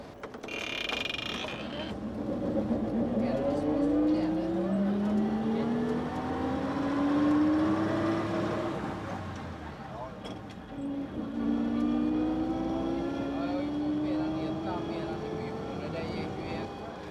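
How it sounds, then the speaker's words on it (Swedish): An old 1935 Volvo bus pulls away and climbs through its gears, the engine note rising in pitch, easing off at each shift, then rising again, loud and close inside the cabin with some talk mixed in. "Nu ska vi i varje fall bjuda på en provtur i en riktigt gammal buss, en Volvo-buss från 35."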